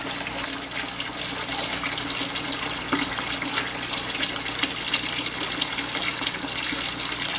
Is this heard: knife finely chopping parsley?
no